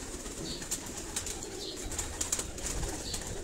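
Paired pigeons on a rooftop loft in Defence, Karachi, give soft, repeated cooing at low volume against a faint background hiss.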